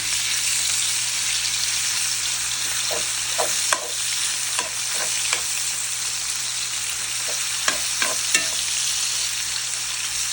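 Chopped pork meat browns in its own rendered fat, a steady close sizzle of frying running throughout, with a scatter of sharp utensil clicks and scrapes as it is stirred.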